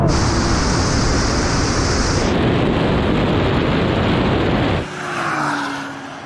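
A Honda NSX accelerates hard in a drag race against a Porsche 911 Turbo S and a Nissan GT-R Nismo, with a loud, dense engine and wind roar that holds steadily, then drops sharply into a lower rumble near the end.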